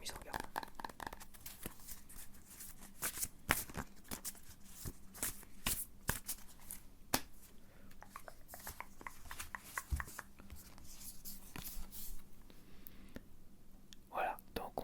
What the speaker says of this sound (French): je vais tirer comme la dernière carte, une carte conseil